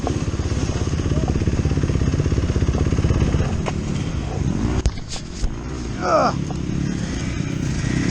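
A dirt bike engine runs loud and steady, revving as the riderless bike climbs a hill, then the tone shifts and settles near the end with some clatter.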